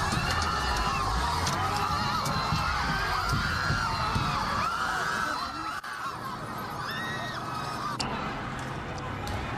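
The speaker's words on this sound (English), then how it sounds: "Screams and panic as that U-Haul truck drives straight into a crowd of demonstrators here" Protesters scream and panic as a U-Haul truck drives into a crowd of demonstrators in South Los Angeles, with sustained loud shouting and chaotic crowd noise, occasional horn honks, and a sudden drop in level near the end.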